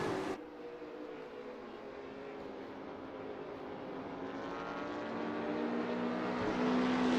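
A Pontiac race car laps the Brands Hatch circuit in a 1970 touring car championship round, its engine a steady, tonal drone that grows gradually louder as it nears.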